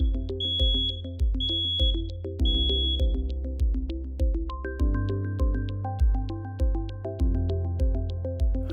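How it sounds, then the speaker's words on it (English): A repeating electronic leak detector alarm on a double-walled storage tank: steady pulsing low tones with high beeping chirps, looping in a regular rhythm without any voices. "If the tank leaks due to corrosion or external damage, the leak detector triggers an alarm."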